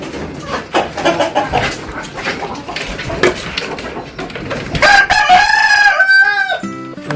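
A rooster crows loudly over a busy background of clucking and barking, the crow rising near the end of the clip.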